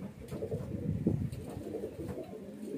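Highflyer pigeons, a small female among them, coo softly in a low murmuring burble, a few rounded calls rising over a steady background hum and rustle.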